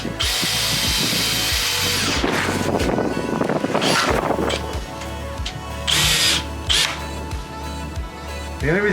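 A power drill drives a screw into wood, the motor whining in loud bursts with brief pauses between runs, close by and mostly alone with only slight background noise.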